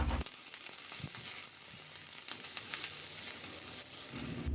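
Garlic and onion sizzle steadily in a hot pan while a utensil scrapes and stirs now and then, a close, continuous frying hiss with no voices.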